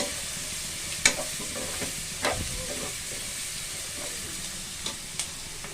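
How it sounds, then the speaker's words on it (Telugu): Sliced onions fry in a pan for pepper chicken masala curry, giving a soft, steady sizzle with a few sharp spoon scrapes and taps. The sounds are close and moderately quiet, with no speech. "మంచి ఉల్లిపాయ ఫ్రై కానివ్వండి."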